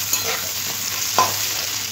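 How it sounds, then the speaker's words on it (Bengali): Thinly cut potato strips fry in oil in a pan with a steady, close sizzle, while a single stirring scrape stands out briefly partway through. "2 থেকে 3 মিনিট নাড়াচাড়া করে আলুগুলো লাল লাল করে ভেজে নিতে হবে।"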